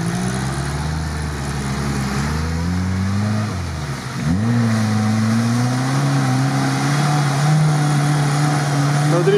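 A Jeep Cherokee grinds along an off-road tank road, its engine droning loud and steady with pitch rising and falling as it labours and revs. A brief dip comes near four seconds before the engine picks up again under faint background voices.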